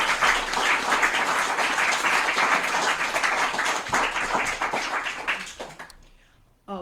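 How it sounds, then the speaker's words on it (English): Audience at a political gathering applauding, a dense, loud wash of clapping that holds steady for several seconds before tapering off and ending abruptly. "Can I hear a round of applause?"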